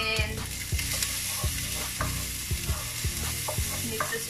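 Chicken fried rice is stirred in a sizzling pan, a constant loud frying hiss punctuated by regular scraping strokes of a utensil against the pan, close up with no talking.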